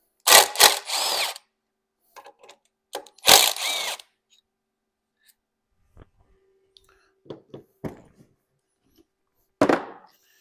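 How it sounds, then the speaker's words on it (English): A power tool spins out 8mm bolts on a 6.0 Powerstroke diesel engine, close and loud in several short bursts, separated by quiet gaps filled with small clicks and metallic handling. "So we'll get these 8mm bolts out of here."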